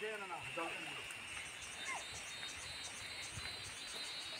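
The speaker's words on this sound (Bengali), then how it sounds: "ঝিঝি বা কোনো পোকা ডাকছে।" Crickets or similar insects chirping in a steady, shrill high drone outdoors during rain, with rain hiss and a faint voice near the start.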